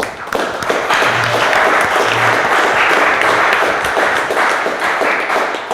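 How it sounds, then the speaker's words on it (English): An audience applauds steadily and loudly for a staff member being thanked at an awards presentation, dense clapping filling the whole stretch from start to finish. "How about a nice round of applause for Mr. Wiles?"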